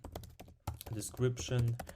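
Computer keyboard keys clatter in quick, uneven bursts while code is typed for a GraphQL programming lesson, with a voice talking over part of the typing.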